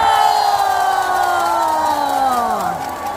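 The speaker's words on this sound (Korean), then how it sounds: "오늘 최강수석 가요제에 참가 12팀의 우리 참가자분들을 위해서 다 같이 큰 박수를 보내주시기 바랍니다." An audience at a Korean song contest cheers and shouts for twelve competing teams, a loud crowd roar with rising, sliding voices that gradually tapers off toward the end.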